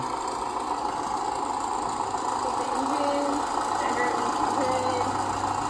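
A 2012 Volkswagen Golf R engine idles steadily under the open hood, a continuous mid-pitched hum with faint whine tones, heard up close without pause.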